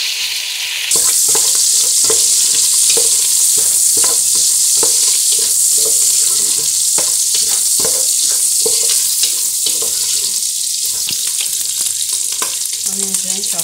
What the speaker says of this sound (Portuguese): Então eu vou fritar essa linguiça, refogar bem refogadinha